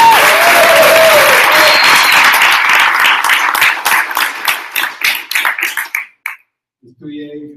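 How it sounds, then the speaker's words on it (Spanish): Loud audience applause honoring the women at a web development bootcamp showcase in Madrid, dense at first, then thinning into scattered individual claps that stop before a brief voice. "Un fuerte aplauso a todas las mujeres de la"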